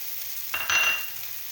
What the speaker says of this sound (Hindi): हमारे जो वेजिटेबल हैं वो अच्छी तरह से 1 मिनट हो गया है इनको कुक होते हुए